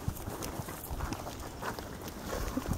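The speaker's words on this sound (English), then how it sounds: "Horses here." Horses walking, their hooves clip-clopping irregularly over a steady outdoor background, fairly distant and soft.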